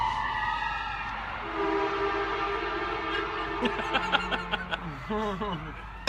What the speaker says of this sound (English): And they honk the horn because people do not move out of the way.